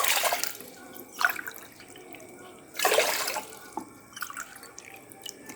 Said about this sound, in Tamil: 4 டம்ளர் நான் ஊற்றுறேன் தண்ணி